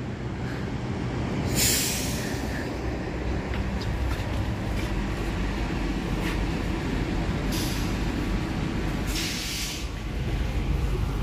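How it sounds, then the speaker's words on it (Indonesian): The Cikuray passenger train, hauling economy new-generation carriages, rumbles past steadily with rolling wheel noise and periodic hissing bursts from the air brakes, with no voices. "Ini dia ekonomi 1 kereta api Cikuray menggunakan rangkaian ekonomi new generation"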